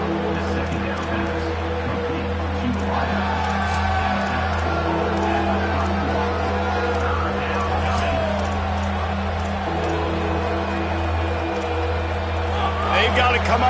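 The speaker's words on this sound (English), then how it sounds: "This crowd bringing the energy and noise early." A football stadium crowd roars in a sustained wall of noise with scattered cheers and whoops, and a commentator talks over it throughout.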